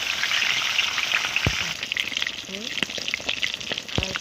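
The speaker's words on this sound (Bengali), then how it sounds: "আর মাথাটা আমি খুব ভালো করে ভেজে নিচ্ছি।" A katla fish head fries in hot oil with a dense, continuous sizzle and crackle, punctuated by a few sharp clinks and stirring scrapes in the pan.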